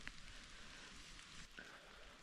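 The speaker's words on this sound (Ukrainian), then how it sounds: "Ну це такий дощик іде грибний." Light, steady rain patters through a forest during autumn mushroom picking, a soft continuous hiss of drops on leaves and ground with a few brighter drip ticks, faint and without talk.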